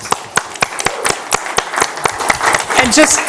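Clapping from attendees of a behavioral health commission meeting for the panelists, sharp rhythmic hand claps that build into fuller applause, with voices murmuring underneath.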